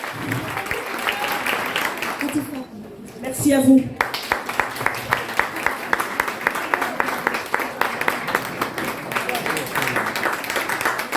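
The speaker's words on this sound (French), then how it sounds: "On applaudit très fort" An audience at a talk for cancer patients applauds, with a brief stretch of speech in the middle, then steady clapping resumes and continues to the end.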